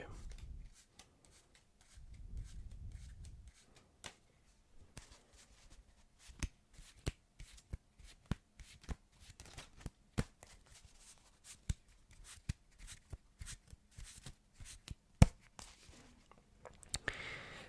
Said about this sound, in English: it is called the Hindu shuffle